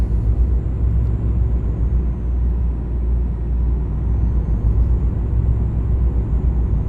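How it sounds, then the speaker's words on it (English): A heavy truck engine in Euro Truck Simulator 2 is over-revving, making a steady, loud, continuous low rumble and whir that holds throughout without letup. "we're actually over revving the truck"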